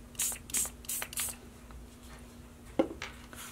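A spray bottle squirts water onto watercolor paper in four quick, close hissing bursts. A thump and a scrape follow, and no one talks.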